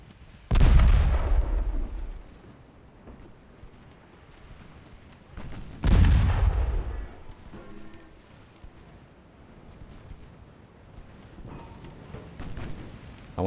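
Naval guns firing in a dreadnought-era warship battle video game, two heavy booming salvos several seconds apart, each with a long rumbling decay, followed by quieter distant thuds and background rumble.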